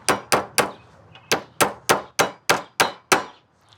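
A hammer drives nails into a metal joist hanger on a floating deck, striking about ten sharp, ringing metallic clangs in a quick, slightly uneven rhythm, each one loud and close.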